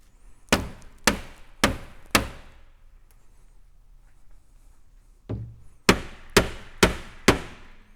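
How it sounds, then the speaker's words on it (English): Sharp strikes against the side panel of a 16x20 double-station pneumatic heat press to loosen it: four evenly spaced knocks, a pause, then five more in a quick rhythm, close and loud. "We're going to alternate strikes on either side of the side panel coming out this way."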